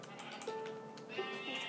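Sheep bleating in a game world: short, thin bleats sit over a steady background of ambient tones and music, moderately loud.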